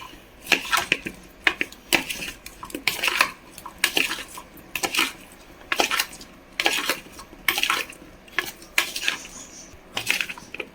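A spoon mixes cauliflower with vinegar marinade in a bowl, sharp clinks and scrapes of metal against the dish repeating in an uneven rhythm, close and clear.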